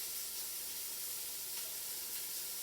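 Chopped onions sizzle in smoking hot oil in a pot, giving a steady, fairly faint hiss of frying with no voices.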